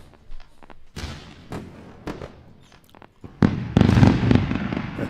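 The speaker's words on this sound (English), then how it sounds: "Now let's go for a round of fireworks." A fireworks sound effect fires on a live futures trading stream: sharp pops and crackling bursts come at irregular intervals, then swell into a louder, denser crackle near the end.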